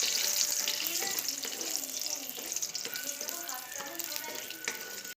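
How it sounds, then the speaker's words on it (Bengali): Raisins frying in a pan for fried rice, a steady bright sizzle with small crackles that runs close and even the whole time, with no voices. "কিশমিশগুলো ভেজে নিচ্ছে।"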